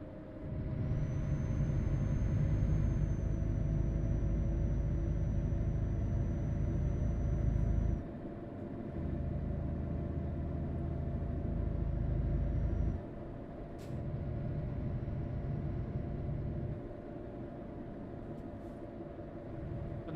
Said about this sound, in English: This truck sounds like it's absolutely gutless.